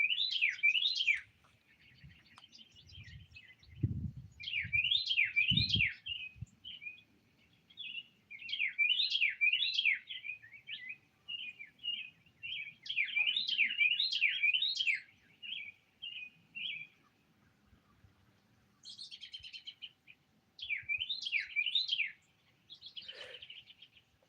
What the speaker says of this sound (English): that bird does sound like a car alarm